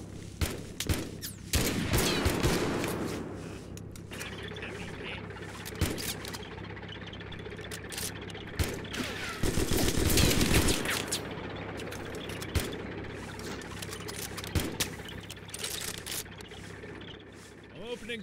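Gunfire rings out in the video game Mud and Blood, with repeated sharp, loud shots and bursts scattered irregularly over a steady low background hum.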